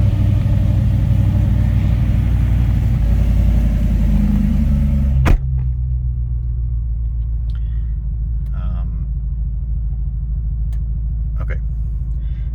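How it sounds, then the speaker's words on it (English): A turbocharged Audi RS4 engine turns over with a sharp click, then settles into a steady low idle rumble, with loud broadband noise before it. "So if I turn the car on"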